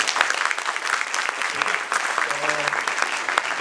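Loud, sustained audience applause fills a lecture hall at an institute event, a dense steady clapping throughout, with a brief voice underneath.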